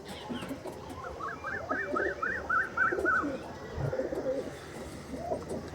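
Andhra pigeons coo softly nearby, a quick run of several short rolling coos in the middle, set against low background noise and faint rustling.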